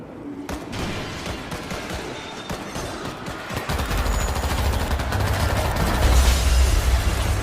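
Gunfire in the zombie shooter game World War Z, with dense rapid bursts of shots and a rumbling low roar that builds and grows louder in the second half, with no talking.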